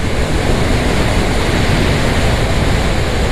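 Strong wind roars as broadband buffeting against a microphone while riding a KTM Duke motorcycle at night, steady and loud throughout, no voices present.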